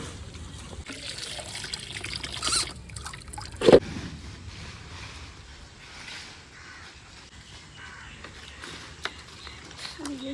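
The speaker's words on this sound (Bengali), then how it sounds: "পাইপ দিয়ে জল হচ্ছে" Water running from a hose onto sun-scorched garden plants such as marigolds, cucumbers and pumpkins: a continuous soft trickling splash with a voice faintly present at times.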